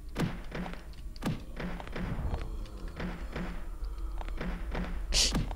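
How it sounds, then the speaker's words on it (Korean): Repeated dull thuds sound in the horror game Dead Village, heard as a door being knocked on, in an irregular series of close knocks over a steady low background, ending with a brighter hit near the close. "이게 그 문 그 두드리는 소리 같은데"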